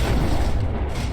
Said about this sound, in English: Is it an explosion?